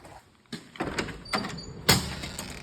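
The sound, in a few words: pull open door being opened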